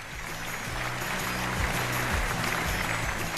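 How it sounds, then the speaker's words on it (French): An audience applauds after a speech honouring the chief designer of the Beidou-3 satellite system, a steady, dense wash of clapping that holds at an even level throughout with no voices over it. "Applaudissons bien fort Monsieur Lin pour son merveilleux discours."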